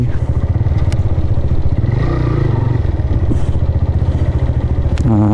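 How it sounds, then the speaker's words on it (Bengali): Motorcycle engines idle and rumble close by while bikes wait in line at the Padma Bridge toll plaza, a loud, steady throbbing with some clatter and a brief higher tone near the end. "আমি এর আগে কখনো পদ্মা সেতুতে মোটরসাইকেল নিয়ে আসি নাই"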